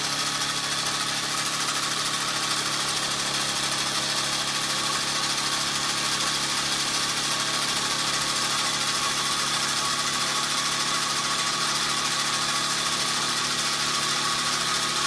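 A Red Devil engine, warmed up and fitted with a boiler, idles steadily in a continuous close mechanical drone with a faint knocking rhythm, no voices over it.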